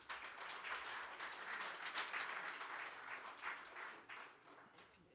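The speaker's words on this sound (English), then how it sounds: "a round of applause?" A colloquium audience, panelists among them, claps in sustained applause that fills the room at a steady level, swelling and easing slightly without stopping, with no voices over it.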